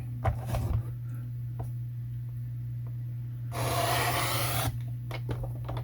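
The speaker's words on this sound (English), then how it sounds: "from this fold down we are going to cut" Scissors cutting through folded card stock to form a small flap, a soft dry rasping snip that swells louder for about a second midway, over a steady low hum with faint handling taps.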